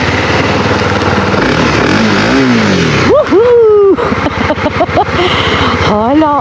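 A Honda CB250R motorcycle engine runs close by, idling with a steady throb and then revving sharply several times in rising and falling sweeps, while a person talks over part of it.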